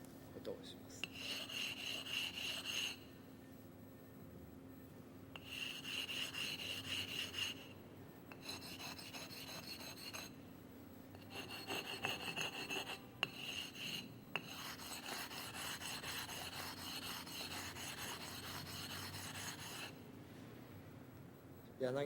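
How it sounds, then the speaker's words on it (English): Sharpening stone being flattened before honing a yanagi knife, a steady gritty rubbing rasp in repeated bursts with brief pauses between strokes, close and fairly quiet. "Before you sharpen the yanagi knife, you'll need to fix your sharpening stone."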